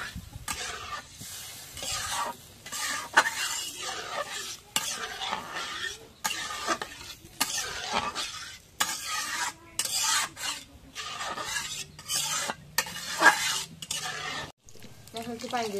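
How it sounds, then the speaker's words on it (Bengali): A spatula repeatedly scrapes and rasps across a pan as potatoes are stirred through fried spices, the close strokes coming in uneven bursts over a soft sizzle. "এখন একটু নাড়া দিয়ে দিই।"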